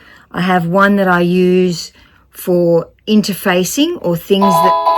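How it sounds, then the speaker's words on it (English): A household doorbell chimes near the end, ringing over someone talking close by about fabric-pressing cloths. "And that was just my doorbell."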